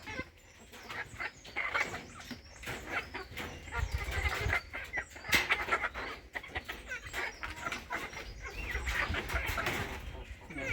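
Chickens being fed a mixed, watered feed cluck and squawk in uneven bursts, close and fairly lively, over scattered rustling and movement as the birds crowd around.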